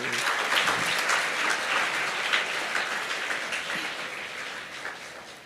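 An audience claps continuously to welcome a guest at a motivational talk event in Maharashtra, a dense, even applause that holds strong throughout before easing slightly.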